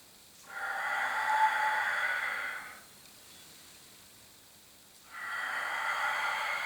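Slow, controlled breaths during a Pilates exercise: two long, close airy exhalations, each about two seconds, separated by a quiet pause, with no talking over them.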